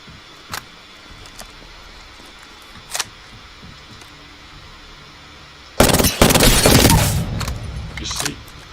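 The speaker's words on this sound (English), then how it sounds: "3 bursts of a Prowler just kill someone instantly. It has a high fire rate" A Prowler burst gun in Apex Legends: a couple of faint isolated shots first, then a loud, dense burst of rapid fire that tails off over about two seconds.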